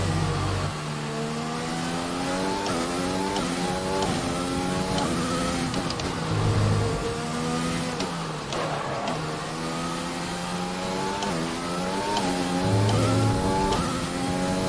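A Formula 1 car in the F1 2020 racing game, running a wet-weather setup on a drying track, screams continuously close up. The engine pitch rises and drops repeatedly through gear changes, with brief tyre noise and no talk over it.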